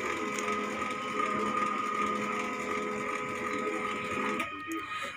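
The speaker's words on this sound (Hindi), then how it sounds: "हमारा प्रिंटर ऑन हो रहा है अभी।" A laser printer powers on with a steady mechanical whir and hum, close and moderately loud, with a tonal drone that cuts off near the end.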